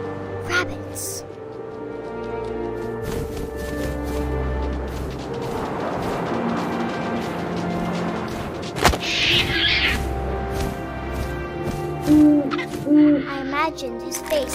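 Owl hoots in the video game What Remains of Edith Finch, set over a steady bed of wind and ambient game sound, with a sharp thump near the middle and a few soft hoots toward the end.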